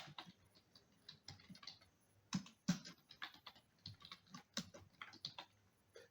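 Quiet, close clatter of keys typing text on a computer keyboard, an irregular run of soft taps with a few louder presses near the middle.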